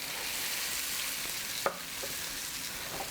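Butter sizzling in a hot pan for a chicken sauce, a soft continuous crackling fry heard close, with one sharp clink of a utensil partway through.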